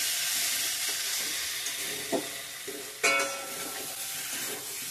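Potatoes fry in a pan for aloo paneer, a steady close sizzle and hiss with a couple of brief louder stirring clatters, no voices.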